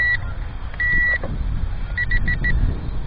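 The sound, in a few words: drone beeping three times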